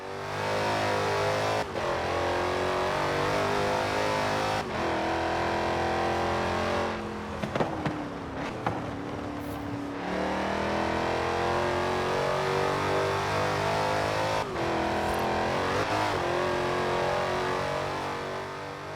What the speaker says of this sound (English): It's got that guttural modern muscle tone, you can hear the supercharger whine, especially at low RPMs